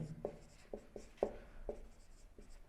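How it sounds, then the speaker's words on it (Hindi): Writing on a board during a maths class: a series of quiet, distinct scratchy strokes and taps, about seven in a few seconds, close and with no voice over them. "तो अब देखिए हम लिखेंगे"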